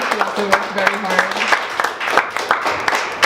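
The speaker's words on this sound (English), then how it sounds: "Applause for Amanda." An audience at an affordable housing talk breaks into applause, a dense patter of many hands clapping close by. A voice speaks over part of it.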